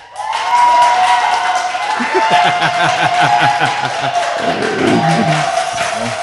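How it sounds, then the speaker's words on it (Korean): Studio audience applauds with dense, steady clapping mixed with some laughter and cheering, full and close throughout, as a city mayor is welcomed onto a Korean talk show. "자, 박수!"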